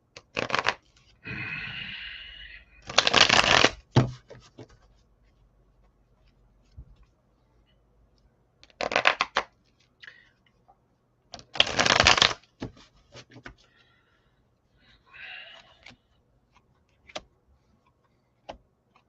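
Tarot cards are shuffled in several separate bursts of riffling and flapping, close and crisp, with quiet pauses and a few light taps between them.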